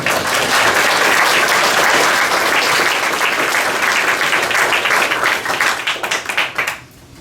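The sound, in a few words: applause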